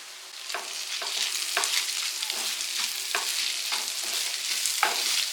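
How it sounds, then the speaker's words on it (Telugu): Ginger garlic paste frying with beef and onions for beef chukka, a steady close sizzle broken by regular scraping stirs of a spatula about every second, with no talking. "ఒక నిమిషం అల్లం వెల్లుల్లి పేస్ట్ కూడా వేగనిద్దాము"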